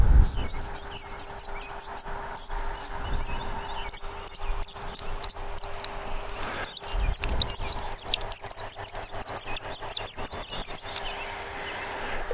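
Rapid, high-pitched chirps and tweets come in quick bursts as birds answer an Audubon bird call, with a brief pause partway through. The chirping is fairly loud and close, with no voices.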